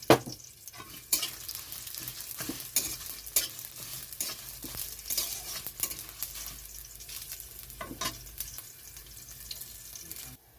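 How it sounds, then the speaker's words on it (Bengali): Spice paste frying in a pan with a small amount of oil crackles and sizzles continuously, broken by frequent sharp stirring scrapes and clatters. "মশলাটা ভাজা হয়ে গেছে তো নামিয়ে নিচ্ছে"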